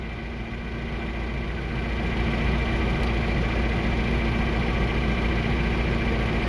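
A tractor engine runs steadily at idle nearby, a constant low, throbbing diesel drone with no speech.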